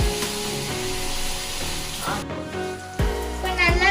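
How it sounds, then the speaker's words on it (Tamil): Chopped onions fry in hot oil alongside fennel seeds and star anise, browning toward golden, with a steady, dense sizzle and occasional clinks and scrapes of a utensil stirring the pan. "வெங்காயம் போட்டுக்கலாம். இது வந்து கோல்டன் ப்ரௌன்ல ஆகணும்"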